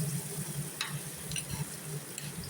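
Grated coconut and shredded cabbage stirred in a frying pan for a Tamil cabbage poriyal, with a steady soft sizzle and scattered light scraping strokes close by, no voices.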